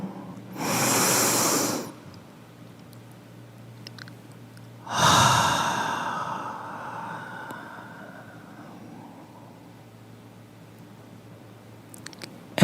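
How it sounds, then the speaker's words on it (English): A deep inhale during guided breathing meditation: two long breath sounds, the first steady, the second rising sharply then trailing off slowly, close and alone with no talk. "And another inhale."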